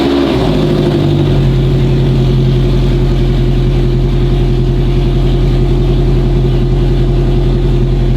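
A Ferrari F430 engine cranks and catches, then settles into a loud, steady, throbbing idle that carries on alone, close by and without talk.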